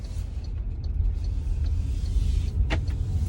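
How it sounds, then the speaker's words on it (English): An electric car drives along with a steady low road rumble and quiet cabin hum, a brief higher whir rising near the end, with no talking. "just about to set off in my electric car for the first time"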